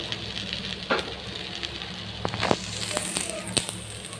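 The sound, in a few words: vegetables frying with green chillies and five-spice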